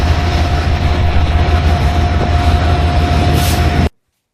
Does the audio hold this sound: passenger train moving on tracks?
yes